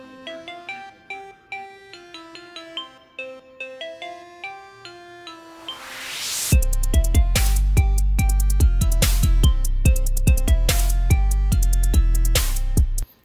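Produced beat: a plucky, high-pitched synth melody plays alone at first, then a booming 808 bass kicks in and the full beat continues loud and rhythmic to the end.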